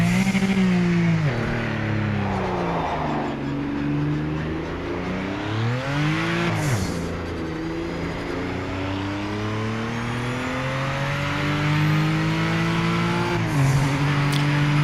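Turbocharged race car engine in the Project Motor Racing video game, revving loudly and continuously with rising and falling pitch sweeps as the car accelerates and shifts, steady and close throughout.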